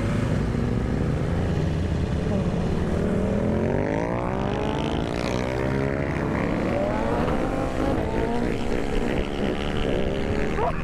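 A Honda CG motorcycle engine revs loudly and continuously, its pitch rising and falling in waves, close by with a steady rumble underneath.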